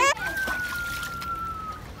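Water splashes and sloshes in a swimming pool during a pool party, a burst of splashing at the start followed by lighter sloshing, with a voice and other speech over it.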